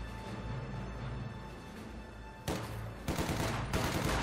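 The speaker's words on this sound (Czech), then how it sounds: "Na druhou stranu Uda tady má kulomet" Faint machine gun fire in the strategy game Company of Heroes 2, a low battlefield rumble broken by sharp rattling bursts that grow louder toward the end.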